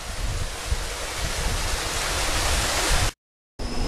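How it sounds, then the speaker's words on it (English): Sludge being pumped through a filter press makes a loud, steady broadband rushing flow that cuts off abruptly near the end and then resumes. "So now we're ready to start the sludge through the press."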